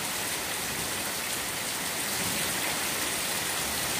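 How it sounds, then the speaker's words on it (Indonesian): Heavy rain beats down on a house roof during a storm that floods into a storeroom. It is an unbroken, even hiss and patter that stays steady for about four seconds. "hujan deras"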